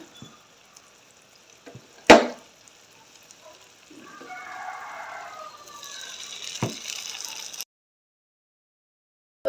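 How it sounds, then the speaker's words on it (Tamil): Soy kebabs dropped into hot oil for deep-frying, giving a sharp clatter followed by a soft, steady bubbling sizzle that rises and fades before cutting to silence. "நாங்கள் வந்து இது செய்து வச்சதை வந்து போட்டு பொரிச்சு எடுத்துடலாம்"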